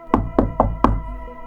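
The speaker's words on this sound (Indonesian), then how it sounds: "Ketukan di pintu masih terdengar." Four firm knocks on a door in an even, unhurried rhythm, close and clear, each a hollow thud, with silence after.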